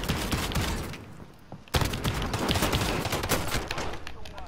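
Pistol gunfire in Call of Duty: Warzone rings out in a rapid, dense string of sharp shots, with a brief lull before a louder burst resumes and carries on steadily. There is no talk.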